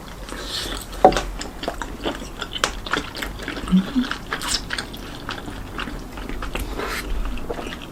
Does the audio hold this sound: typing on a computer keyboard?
no